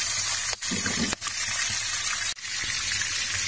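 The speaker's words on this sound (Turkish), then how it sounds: "kızgın ateşimizle beraber kızgın yağımıza balığımızı attık. Kızartıyoruz." Fish frying in hot oil over an open fire gives a steady, loud sizzle and hiss, broken by a few brief dips in the noise.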